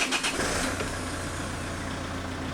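Renault Megane 1.9 dCi diesel engine running steadily at idle, a continuous low hum with mechanical clatter close by, slightly louder at the very start, no talking.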